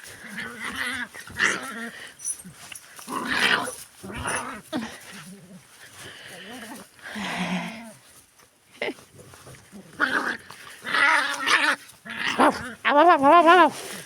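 Dogs bark in irregular bursts of short, sharp yaps, some close together, while someone talks in between, in the evening.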